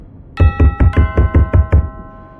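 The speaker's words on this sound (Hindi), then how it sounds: "अब डोरबेल के साथ साथ जोर जोर से किसी के दरवाजे को खटखटाने की आवाज़ भी आकांक्षा के कानों में गूंज रही थी।" Loud, heavy knocking on a door, about seven rapid close blows in a row, sounds alone over a sustained ringing doorbell tone.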